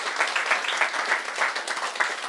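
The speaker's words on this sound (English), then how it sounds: "So a big round of applause for those people." Audience at a YMCA Cork celebration event claps in a steady, dense round of applause close to the main stage, with no one talking over it.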